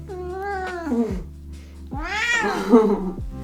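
A cat meows twice after being woken up, two drawn-out, sliding complaints, close and clear with a brief pause between them.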